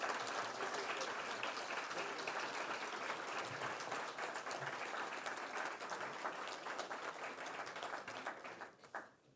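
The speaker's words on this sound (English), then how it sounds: "please give a very, very hearty round of applause to Jacques Shore" Hearty crowd applause at an event, full and continuous for most of its length, then tapering off quickly and fading out at the end.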